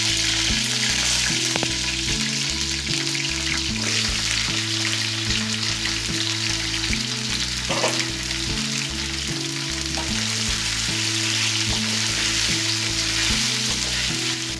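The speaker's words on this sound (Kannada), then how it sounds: "ಈರುಳ್ಳಿ ಚೆನ್ನಾಗಿ ಫ್ರೈ ಆಗಿದೆ." Onions, curry leaves and taro root frying in a pan, a loud constant sizzle with a low droning hum underneath, close and uninterrupted throughout.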